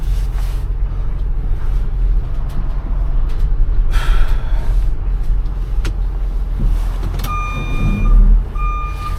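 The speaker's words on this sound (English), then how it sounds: "Need a beeper like this on the truck, because this has a good loud tone." A loud, steady electronic reversing beeper on a van, repeating evenly spaced tones over a constant idling engine rumble, close by, with no talk.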